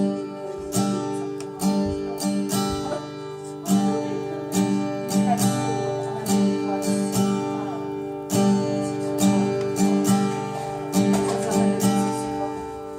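Acoustic guitar strummed in a down-then-bounce pattern, steady rhythmic strokes repeating in even groups with brief pauses, close and clear with no talking.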